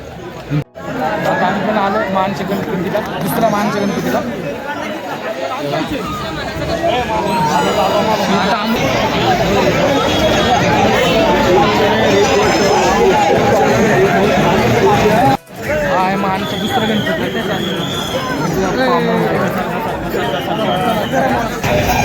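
Dense, steady crowd babble fills a packed Ganpati festival street on Laxmi Road, Pune, with many overlapping voices and footsteps, loud and continuous throughout, briefly cut twice.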